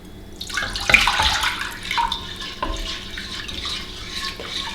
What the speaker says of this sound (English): So I'm going to pour the white sauce in now.